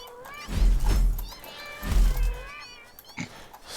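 A cat meows in the Satisfactory video game, two drawn-out, fairly loud wavering cries with a softer short call after, no talk over them.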